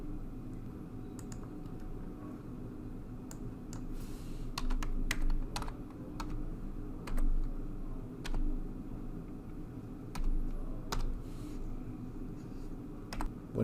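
Keys clack on a computer keyboard in irregular short bursts and single taps, fairly close but soft, over a low steady room hum with no voices.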